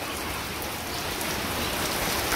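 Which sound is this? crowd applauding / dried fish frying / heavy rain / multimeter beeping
heavy rain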